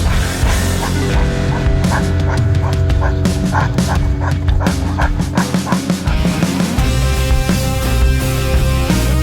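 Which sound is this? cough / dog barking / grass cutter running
dog barking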